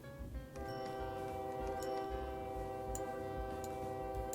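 Trains rolling into a station in the transport strategy game OpenTTD with the FIRS industry set: a steady rumbling bed with sustained horn-like tones and light ticking, continuous and moderately loud after a brief quieter opening.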